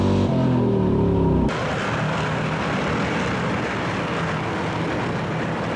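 Factory stock race cars roar past on an oval track, a loud engine pass that cuts off abruptly and gives way to a steady broadband rumble of cars running at speed.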